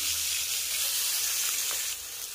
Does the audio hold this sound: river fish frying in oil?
yes